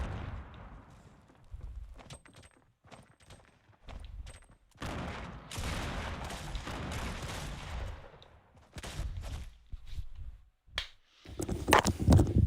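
Gunfire in the video game Fortnite, a series of sharp shots in irregular bursts and clusters mixed with other game effects, fairly loud with quieter gaps between.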